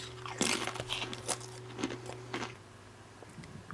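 A dog gnaws on a giant dog chew, giving quiet, irregular crunching bites and crackles close by, with a faint steady hum underneath.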